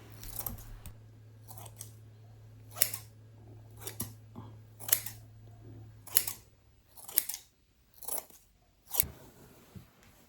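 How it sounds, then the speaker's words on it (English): Scissors snip excess thread from a handmade rag doll, a series of sharp, close, crisp cuts spaced about a second apart over a quiet background with a low hum fading out midway. "we can trim some of that excess thread just to neaten it up a bit"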